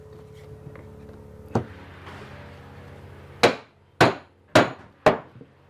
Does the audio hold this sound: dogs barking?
no